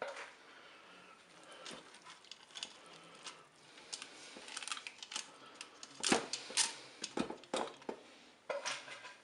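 Dry spaghetti snapping in a kitchen before going into a Cookeo pot, a scattered series of sharp crisp cracks and small clatters, fairly close and quiet, with no talk.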